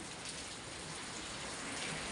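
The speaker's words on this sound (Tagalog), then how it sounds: "Sige po ulan, panay ang ulan." Steady rain falling during a stormy, windy spell, a soft continuous hiss of drops on surfaces, even and unbroken, faint and without voices.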